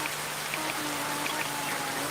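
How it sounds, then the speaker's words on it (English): Rain falling during a Porsche Cup and Mercedes AMG Cup race in a racing video game, a dense, steady hiss of raindrops throughout with faint tones beneath and no talk. "Rain has appeared in the race."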